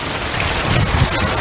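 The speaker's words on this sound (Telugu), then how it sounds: "ప్రస్తుతం వర్షం తగ్గింది, గాలి కూడా స్టార్ట్ అయింది." Heavy rain falls steadily in Hyderabad during a storm, a loud, dense wash of drops pattering on surfaces with gusty wind mixed in, continuous and close with no voices.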